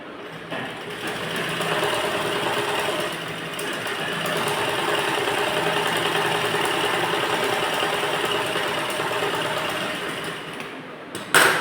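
Close and steady, a sewing machine whirs almost continuously while stitching a net fabric blouse, running at an even pace before stopping with a short clunk at the end.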